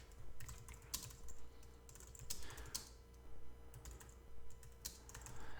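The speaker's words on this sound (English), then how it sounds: "I'm going to go ahead and type" Quiet, irregular bursts of keystrokes on a computer keyboard, typing text into a WordPress page, come in short clusters with brief pauses between them.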